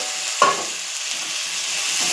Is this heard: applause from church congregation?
no